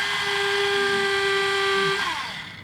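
A small electric drill whines steadily at a high pitch, running continuously up close while drilling a hole in a 1/64-scale toy car, then winds down near the end.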